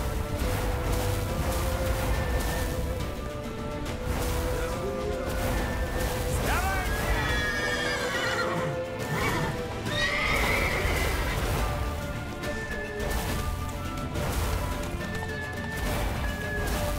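Horses whinny and neigh loudly over a continuous clatter of hooves in The Witcher video game, with several rising calls midway, set against dense game ambience and voices.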